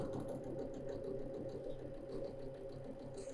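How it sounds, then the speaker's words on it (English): A quiet, continuous motor hum of a sewing machine joins quilt fabric squares with right sides together, running evenly and fairly faint throughout. "putting it right sides together on the sapphire color square. And we're going to go ahead and sew those."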